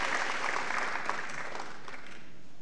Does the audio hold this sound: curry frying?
no